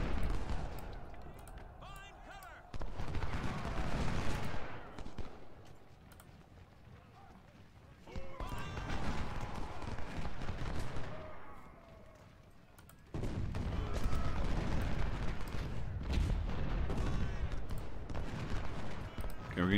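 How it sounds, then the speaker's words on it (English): Massed Civil War–era battlefield fire from Ultimate General: Civil War, with 20-pounder artillery among repeated booming volleys and crackling musketry in several loud bursts, under a voice talking. "Our 20 pounders firing on his artillery."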